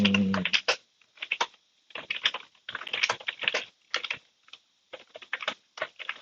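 Slow, irregular computer keyboard typing, with bursts of key clicks separated by short pauses. The keys sound fairly close and crisp, and nobody is talking.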